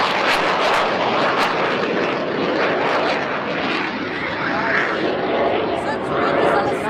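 Aircraft roaring overhead at a military air show, with helicopters flying in a mixed formation. It makes a loud, continuous broadband engine rumble and rush that swells and shifts as they pass, dominating the scene.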